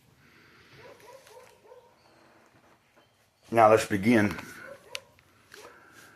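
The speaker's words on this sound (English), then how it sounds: "You can hear the dogs barking." Dogs bark in a short, loud burst of several barks partway through, after a stretch of quiet indoor talk.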